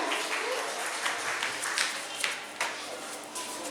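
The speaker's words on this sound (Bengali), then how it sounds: "জোরে হাততালি সবার থেকে চাইব" Audience applause at a quiz carnival event, a steady broad wash of clapping lasting throughout, fairly loud and continuous with a few sharper bursts.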